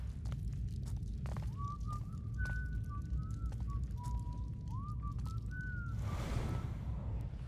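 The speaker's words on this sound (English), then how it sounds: "I definitely heard whistling." Someone whistles a slow, wavering tune in the video game Thief, carried over a steady low rumble of crackling fire, with a burst of hiss near the end.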